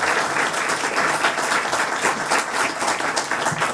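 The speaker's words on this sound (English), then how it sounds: "let's give another round of applause to that" Steady, dense applause from a theater audience at an emerging playwright competition, loud and continuous throughout with no pauses.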